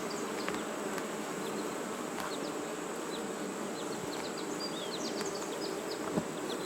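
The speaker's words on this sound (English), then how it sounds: "they'll be outside flying all around the hive" Honeybees buzz around a hive, a constant droning hum with individual bees whizzing past close by.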